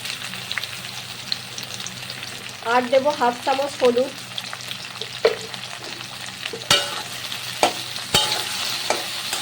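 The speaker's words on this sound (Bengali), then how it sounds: "আর বেশ কিছুক্ষণ করে নাড়াচাড়া করে ভাজা করে নিতে হবে" Taro stolons fry in mustard oil with a little salt and are stirred repeatedly, so a bright sizzle is broken by scraping spatula strokes while someone speaks briefly over the cooking.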